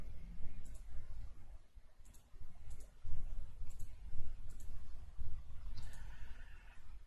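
Computer mouse clicks sound at fairly regular intervals, small sharp ticks over low room noise and faint rumble, with no voices.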